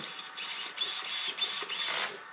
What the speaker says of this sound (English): that's the fan there making the noise